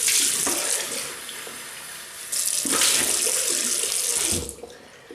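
Warm water runs steadily from a tap into a sink for rinsing after a shave, a close, continuous hiss that dips briefly in intensity and surges again before easing off near the end.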